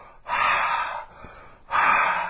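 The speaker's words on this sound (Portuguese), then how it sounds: "Ou então até uma respiração mais forte, onde se consegue mais fluxo de energia," Two strong, forceful breaths are drawn through a wide-open mouth, close and loud, with a short quiet gap between them and no speech.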